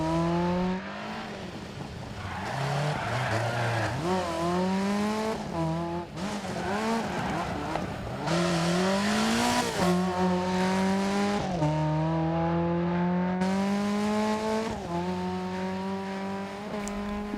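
Opel Manta 400 rally car in the Dirt Rally 2.0 video game, its engine rising and falling through hairpin bends with tire squeal and skidding. The engine stays loud and continuous throughout, with no talk over it.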